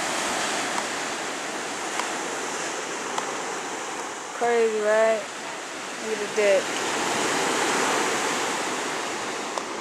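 Ocean surf washing up near a beach deck, a soft steady rush of waves beneath a voice speaking briefly in the middle.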